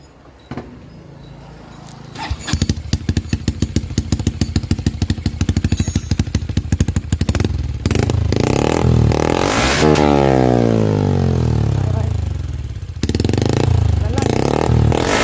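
A motorcycle with an aftermarket YES exhaust pipe idles with a rapid popping rattle, then revs hard several times, its loud throaty exhaust roaring up and settling between bursts.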